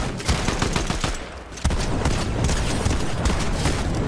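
Rapid gunfire in the video game Fortnite, a burst of sharp repeated shots with booming hits that dips briefly before resuming at full loudness.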